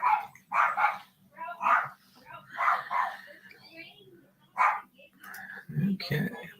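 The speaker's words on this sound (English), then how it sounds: "lots of dog barking" Several dogs barking in short repeated bursts, yips and barks coming in uneven clusters at moderate distance, with a voice speaking briefly near the end.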